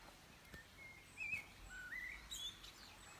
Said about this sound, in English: Lots of bird song at this time of year.